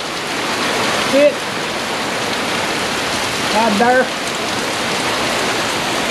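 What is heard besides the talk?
torrential downpour of rain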